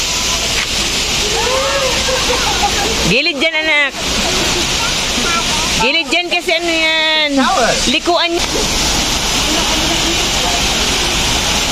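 Water from a roadside shower pours and splashes steadily beside a mountain highway in the Cordillera, a loud continuous rush, while people talk over it.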